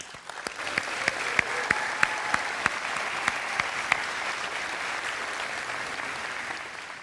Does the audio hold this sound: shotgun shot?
no